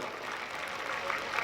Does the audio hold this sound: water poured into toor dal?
no